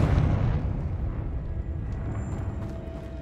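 A Confringo fire spell explodes in Hogwarts Legacy, a loud, deep rumbling blast that fades into a long roar with no voices over it.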